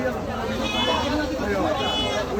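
Goats bleating for sacrifice at a crowded Eid livestock market in Rowajarhat, Bangladesh, with overlapping wavering bleats close by, under busy crowd chatter and voices.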